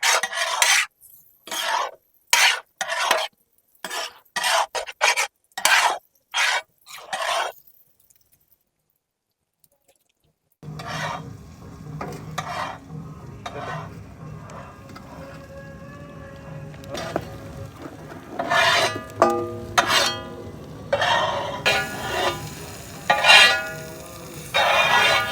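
Tomato and curry leaves being stirred in a pan with a metal utensil, first a series of sharp, rhythmic scraping strokes, then a pause, then continuous sizzling with irregular scrapes and clinks, close by.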